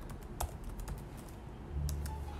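Computer keyboard typing, a few scattered quick key clicks heard close over a steady background hum that swells slightly toward the end, with no talk.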